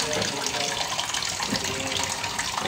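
Tap water runs steadily into a sink while dishes are washed, a loud, continuous close rush with faint clinks, and voices murmur underneath.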